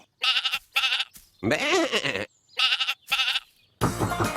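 Sheep bleating played back as a recorded phone ringtone, several loud wavering bleats in a repeating pattern with short gaps between them, heard alone without any talking over it.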